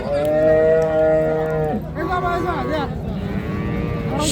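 A Sahiwal cow moos loudly and close at a rural cattle market, one long drawn call followed by wavering, shorter lows over a busy, noisy background.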